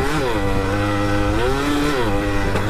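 A Yamaha F1ZR two-stroke motorcycle from 2000, fitted with a Chan Racing muffler exhaust, revs loudly and continuously nearby on a back road, its raspy engine pitch rising and falling.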